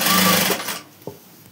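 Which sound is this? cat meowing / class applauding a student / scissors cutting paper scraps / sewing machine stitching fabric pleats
sewing machine stitching fabric pleats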